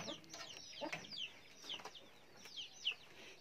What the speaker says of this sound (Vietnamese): trong vườn này của ông bà thì cũng có khá là nhiều cái con gà con này.